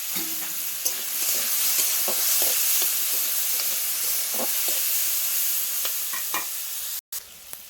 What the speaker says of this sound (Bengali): সবজির সঙ্গে দেখো কাজু কিশমিশটাও দিয়ে দেবো। দিয়ে ভালো করে ভেজে নেবো।